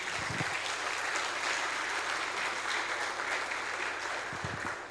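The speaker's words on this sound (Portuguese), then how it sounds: "Dê um aplauso ao Senhor por isso." Congregation in a church applauding, a sustained wash of clapping heard throughout at moderate distance, with no talking.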